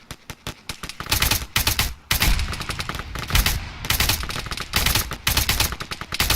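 Rapid video game gunfire crackles in dense, overlapping automatic bursts, loud and continuous, like a firefight in a military shooter.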